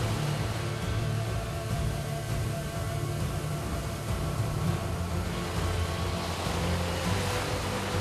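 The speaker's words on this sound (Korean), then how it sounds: "파도가 사정없이 그의 몸을 덮칩니다." Ocean surf crashing over a swimmer in open sea off Kovalam, India, a loud continuous roar of breaking waves and rushing water with no pauses.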